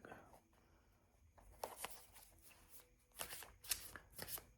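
Playing cards riffle-shuffled from a deck in a few quick bursts, crisp fluttering ripples near and fairly quiet with soft handling noises between them.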